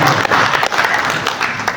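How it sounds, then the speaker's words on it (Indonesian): Brief burst of audience clapping in a hall during a college graduation ceremony, a dense, even patter of many hands that runs through the whole moment. "Tepuk tangan dong"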